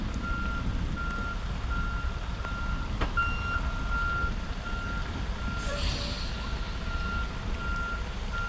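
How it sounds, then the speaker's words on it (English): Semi truck reversing in a video game, rain-soaked and stuck in mud, its reversing alarm beeping in a steady repeating rhythm over a low engine rumble, with a short hissing burst partway through. "as I'm trying to back up and swing around that corner"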